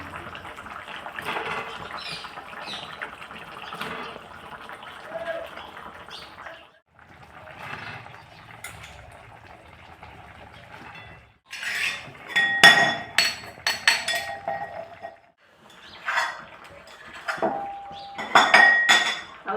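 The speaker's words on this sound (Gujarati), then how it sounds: "હવે આપણે નાખી દઈશું આ રીંગણા" Eggplant pieces tipped into a pan and stirred for a village-style Gujarati brinjal and potato curry, with scraping, metal clinks and clattering against the pot, quieter stretches giving way to louder bursts of stirring near the end.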